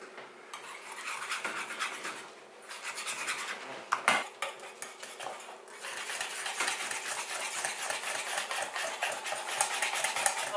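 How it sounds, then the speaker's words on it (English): A spoon scrapes and swirls through a pot of hot soup as the ingredients are mixed together, a steady close scraping that stays continuous for about ten seconds, with a brief clatter midway and no voices. "then mix it all together"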